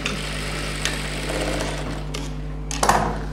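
A sewing machine stitches pattu pavadai silk fabric in a steady, close, continuous mechanical whir with a low hum and a few sharper clicks near the end, and no voices.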